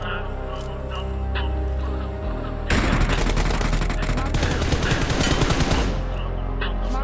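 Gunfire in the mobile battle-royale game PUBG Mobile: after quiet game ambience, a sustained burst of rapid automatic shots rattles for several seconds, then stops and the ambience returns.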